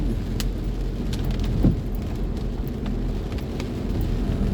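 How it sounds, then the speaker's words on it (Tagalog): Steady rain falling outdoors during typhoon Enting near Laguna Bay in Taguig, a constant hiss with scattered drop ticks and a low rumble of passing traffic underneath. "Tingnan sa camera parang mahina lang yung ulan, pero dito sa labas babasa ka talaga."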